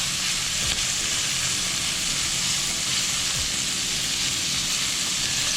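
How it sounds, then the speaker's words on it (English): A New York strip steak sears in a hot pan, giving a loud, steady broadband sizzle with no pauses and no talk. A few low thumps come as the meat is pressed down. "Push it down to make sure all the steak has contact with the pan."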